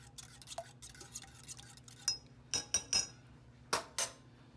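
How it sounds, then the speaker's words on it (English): A whisk scrapes and clinks against a metal pot in a home kitchen, giving irregular sharp metallic taps and stirring scrapes, close up, with no talking. "Just keep on whisking it."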